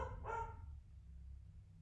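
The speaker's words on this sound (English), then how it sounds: "Dogs are barking." One or two dog barks somewhat distant, brief and moderately faint, followed by a low steady indoor hum.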